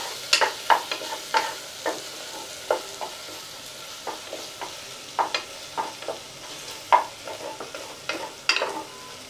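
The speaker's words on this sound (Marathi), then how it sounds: "आलं लसूणची पेस्ट बनवून घेतली आहे, ती घालून घेते आणि ती यामध्ये एखादा मिनिटभर अशी चांगली परतून घ्यायची" Ginger garlic paste is stirred and sautéed in a pan for pav bhaji, with a soft sizzle and a series of scraping spatula strokes coming in uneven bursts, close and fairly quiet.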